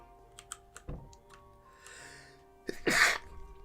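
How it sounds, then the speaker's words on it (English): One violent human sneeze erupts loud and close near the end, preceded by scattered computer keyboard clicks during a modded Project Zomboid gaming session. "Excuse this rather violent sneeze there"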